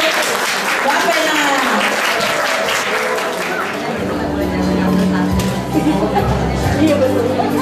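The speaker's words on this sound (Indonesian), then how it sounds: "Baiklah, berikan tepuk tangan" A crowd at a 2012 Indonesian farewell-and-welcome gathering applauds loudly and steadily, with murmuring voices mixed in and a low hum joining near the end.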